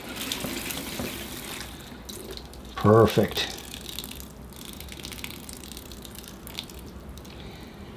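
Water splashes and trickles as a bonsai mulberry tree in a pot is watered, a soft steady pour with a louder gushing burst in the middle, while someone speaks briefly.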